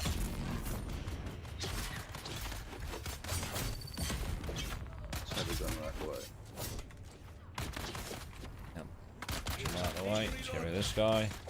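Enemy gunners firing in the video game Dune Awakening, sharp repeated shots and mechanical clatter in irregular bursts, mixed with game effects and a player talking throughout.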